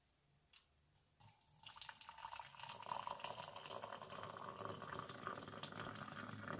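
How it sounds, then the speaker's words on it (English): Hot water pours into a cup to make tea, beginning as a faint trickle and then swelling into a steady, close splashing stream that keeps going to the end. "And now I'm going to add some water."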